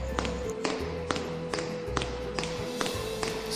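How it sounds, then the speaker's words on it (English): Footsteps echo through a hallway as a sound effect, about ten sharp, evenly spaced taps over a low steady hum, close and fairly loud. "she heard footsteps echoing through the hallway"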